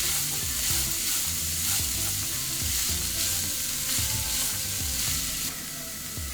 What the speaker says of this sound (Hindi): अब इन सारी चीज़ों को हमें 3 से 4 मिनट के लिए मिड हाई फ्लेम पे भून लेना है।